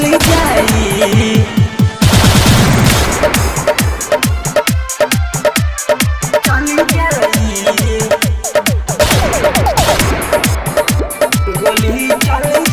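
Gunfire sound effects mixed into a loud Bhojpuri song, with a dense rattling burst early on and sharp, repeated shot-like hits over the driving beat and music throughout.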